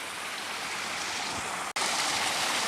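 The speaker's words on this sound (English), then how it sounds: "You can see the water kind of creates another little stream bed that runs inside of there." Water pours steadily through the stone stream bed of a homemade backyard pond waterfall, a continuous close rushing splash with one very brief dropout partway through.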